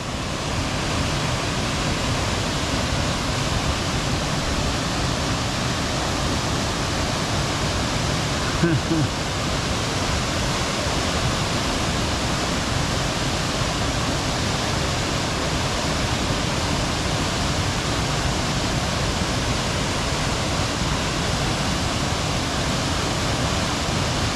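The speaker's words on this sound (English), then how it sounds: "Beautiful waterfall." Steady, broadband rush of falling water, constant and full throughout, like a waterfall heard up close with no pauses.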